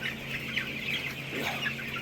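Broiler chickens, cockerels and pullets around thirteen days old, cluck softly in a farm shed, a low continuous chatter of many birds over a steady fan hum, fairly quiet and without talk.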